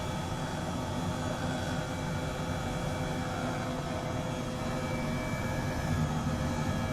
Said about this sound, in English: I am over-torquing the heck out of this engine over and over